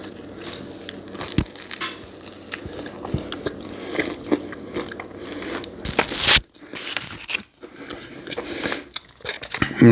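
A double decker BLT sandwich is bitten and chewed up close, with crisp crunching and crackly bites of bacon and toast, irregular bursts of chewing and a few louder crunches over quiet rustling.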